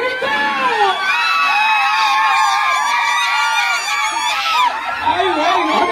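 Loud, dense after-party crowd shouting, whooping and cheering together, with high excited voices sustained without a break for several seconds.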